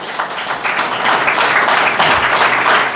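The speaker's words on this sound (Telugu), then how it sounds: "చప్పట్లు కొట్టి దేవుని స్తుతిద్దాం" A church congregation claps loudly in praise, a dense, steady wash of many hands sustained for the full three seconds with no voices rising above it.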